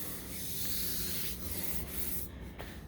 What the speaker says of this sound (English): Got to sand a little bit more right through there on this side though